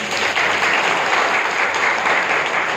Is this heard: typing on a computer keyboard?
no